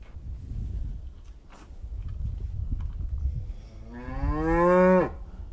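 Farm cattle wanting food let out one long, loud, rising moo close by, preceded by soft shuffling and rustling.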